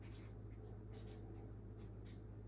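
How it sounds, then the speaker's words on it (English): Pen writing on an index card, quick faint scratchy strokes in short bursts over a low steady background hum, close and quiet with no talking. "So that, I'm gonna write creative planning on here."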